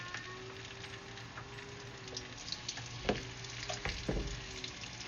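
Roasted peppers and an egg mixture sizzle steadily in a pan, a soft continuous crackle broken by a few sharper clinks and knocks of a utensil near the middle and end.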